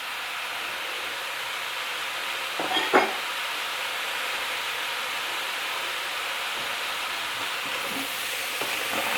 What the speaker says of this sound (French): je ne veux pas faire sauter les haricots jusqu'à la cuisson complète